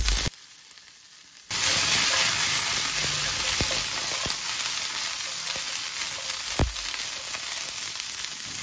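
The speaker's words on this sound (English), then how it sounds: "In the same oil, I'm going to cook the pork out." Pork fries in hot oil in a pan, bursting into a loud, steady, close sizzle after a brief quieter moment at the start, with a few faint clicks of a utensil.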